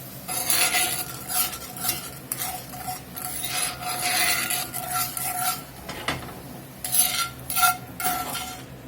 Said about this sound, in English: And let this bubble down here and reduce.